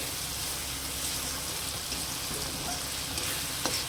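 Spices sizzling in hot oil in a pan for a soybean and potato curry, a dense, steady crackle heard close up, with a few faint clinks and no voices.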